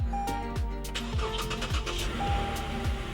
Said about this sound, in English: does this actually turn over is the question.